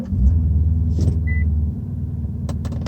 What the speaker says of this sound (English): maybe I should get to starting the car right now